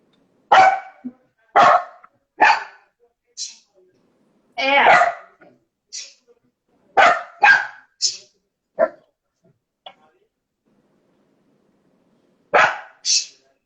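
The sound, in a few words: dogs barking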